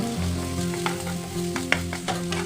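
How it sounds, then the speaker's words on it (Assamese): Potatoes fry with a paste of bhedailota and narasingha leaves, a loud, dense sizzle broken by a few sharp stirring scrapes, close up and without speech. "আলুখিনিৰ লগত মিক্স কৰি এবাৰ ভাজিলোঁ"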